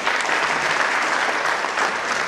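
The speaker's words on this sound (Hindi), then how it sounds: "जोरदार तालियां नितिन सर के लिए।" Steady audience applause fills a school annual function, dense and continuous from start to finish with no speech over it.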